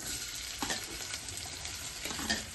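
Chopped onions frying in a couple of spoons of hot oil in a pan, a continuous close sizzle with a few stirring scrapes, no voices.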